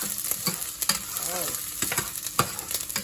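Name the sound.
garlic cloves sizzling in hot olive oil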